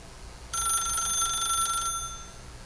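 A telephone rings in The Stanley Parable, one sustained bright electronic ring starting abruptly and lasting over a second before fading, clear and alone over quiet room tone.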